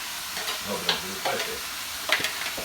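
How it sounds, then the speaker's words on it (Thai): Pork and chili stir-fried in a pan, with a soft, steady sizzle under repeated scraping and clinking stirring strokes at a moderate, close distance. "ผัดหมูก่อนพอหมูเริ่มได้ที่หน่อยหนึงเราก็ ใส่พริกนะคะ"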